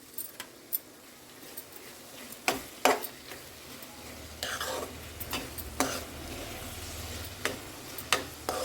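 Carrot halwa cooked with ghee is stirred in a pan, with a soft sizzle underneath and scattered clinks and scrapes of a spoon against the metal at an irregular pace, close and fairly quiet.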